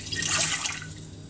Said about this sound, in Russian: мы нальем воду в электрический чайник